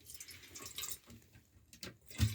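Water poured out for a thirsty animal in cold, freezing weather, irregular splashing and dripping pulses close by, some louder gushes toward the end, with no talk.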